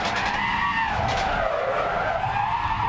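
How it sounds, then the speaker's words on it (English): A Porsche race car locks its tyres under hard braking into turn one at the Red Bull Ring, heard on board as a loud, continuous screeching skid with a sweeping pitch over the engine. "Listen on board, and you hear the car clearly locking up."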